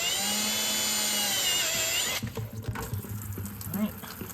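A high whining power drill bores into a Chevy Colorado radiator, steady and close, then cuts off into rattling, trickling and handling noises.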